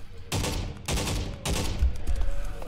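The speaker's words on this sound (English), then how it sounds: "So the pulse rifle." Pulse rifle fire in Half-Life 2: Episode Two with the MMod modification, coming as three loud bursts of rapid energy-weapon shots with short gaps between them, followed by a busier stretch of mixed combat noise.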